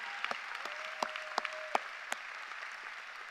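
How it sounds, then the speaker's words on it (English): An arena audience at a school graduation claps in a thin, distant patter of scattered hands, with a few sharper nearby claps standing out and a faint tone running underneath. "give yourself and your students a huge round of applause"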